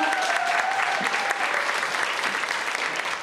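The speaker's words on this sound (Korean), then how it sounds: "큰 박수 보내주세요" An audience at a lecture hall welcomes a psychiatrist onto the stage with loud, sustained applause. The dense clapping fills the room steadily and fades slightly toward the end, with no one talking over it.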